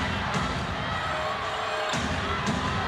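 Crowd at a FIBA Women's Asia Cup basketball game between China and Japan, a broad sustained murmur of disapproval that swells and dips, with occasional thuds and court noise.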